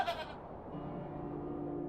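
Goat giving a short, nasal bleat, close and brief, followed by quiet room tone with a faint hum.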